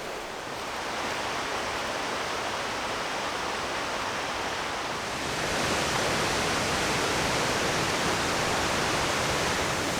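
Waterfall on a forest creek in a national park: a steady broad rush of falling water fills the air, constant and fairly loud, swelling slightly louder partway through, with no voices.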